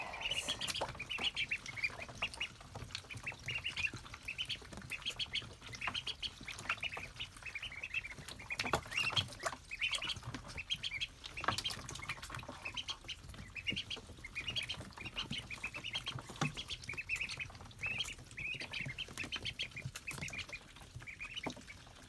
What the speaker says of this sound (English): Them little quackers were thirsty.